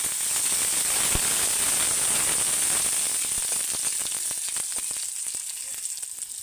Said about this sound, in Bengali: এবার আমি তেলের মধ্যে কুচানো রসুনগুলো দিয়ে দিচ্ছি। আর দিয়ে দিচ্ছি 2টো কাঁচা লঙ্কা।